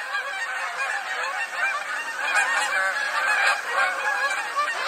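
A large flock of geese honks continuously and fairly loudly, overlapping calls filling the air with a dense chorus that holds steady throughout.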